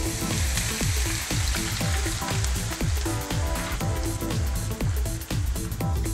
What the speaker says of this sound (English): we're gonna take the potatoes and we're gonna pop them in the pan.